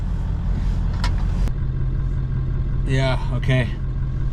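A 1996 Ford F-350 with a 7.3 Powerstroke diesel drives with a steady low engine drone throughout, a few brief clicks and knocks along the way, and a short spoken exchange near the end.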